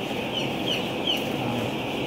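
Growing chickens cluck softly around a farm pen, with a few brief high calls rising over a steady, noisy background hum.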